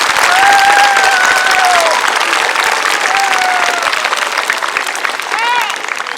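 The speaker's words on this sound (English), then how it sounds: "give them a round of applause" At a school Veterans Day celebration, an audience bursts into loud, sustained applause that gradually tapers, with whistles and a few cheering voices rising above the clapping.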